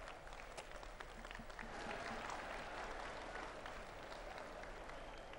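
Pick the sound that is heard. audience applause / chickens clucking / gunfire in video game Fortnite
audience applause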